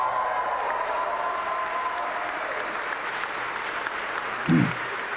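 A crowd watching a Starship flight applauds and cheers continuously as a broad, steady wash of clapping, with one low thump near the end.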